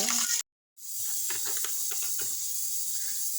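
Frying in a pan for a shingi fish curry sounds as a loud, bright hiss that cuts out briefly and then returns with crackling pops and spits, close and steady with no talk.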